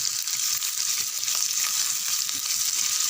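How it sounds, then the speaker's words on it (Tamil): Finely chopped large onion sautéing in a pan for semiya upma gives a loud, steady, close-up sizzle that holds evenly throughout without pauses. "வெங்காயம் பாதி அளவுக்கு வதங்கினா போதும்"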